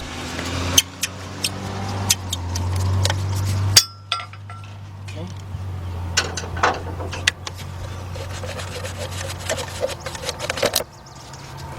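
Screws being backed out of the engine cover on a Suzuki XL-7 with a screwdriver, giving small metallic clinks and taps at irregular intervals over a steady low engine-bay hum, with someone talking at times.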